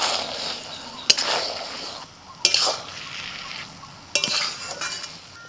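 Sugar being stirred into a pan of Basanti pulao with a spoon, three distinct scraping strokes against the pan over a low sizzle, close and moderately loud, no voices.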